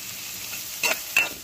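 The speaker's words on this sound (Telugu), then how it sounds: "ఇలా ఇందులో బాగా వేగిపోవాలి" Potatoes and fenugreek leaves fry in oil, giving a low steady sizzle with two sharp scraping stirs near the end, close by and unaccompanied by voices.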